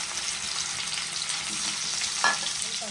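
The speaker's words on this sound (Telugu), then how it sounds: "ఆయిల్ వేడయ్యాక మనం ముందుగా కట్ చేసి పెట్టుకున్న దొండకాయ ముక్కల్ని ఇందులో వేసుకోవాలి." Pieces of ivy gourd fry in hot oil with a steady, close sizzle throughout, and a single brief utensil clink sounds near the end.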